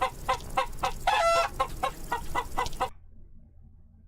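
Repeated clucking from a chicken in the game Grand Dude Simulator, a steady run of close, fairly loud calls with one drawn-out squawk, stopping abruptly into near silence.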